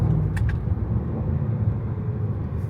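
A supercharged V8 Range Rover drives along, giving a deep, steady low rumble heard close from inside the cabin, with a couple of brief faint clicks near the start.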